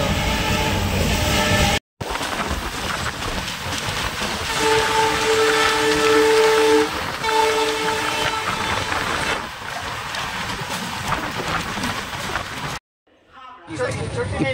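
The Vivek Express train rolls through a forest at night with a loud, continuous roar of wheels on track and a sustained horn blast midway, heard close from on board.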